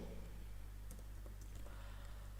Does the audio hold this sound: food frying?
no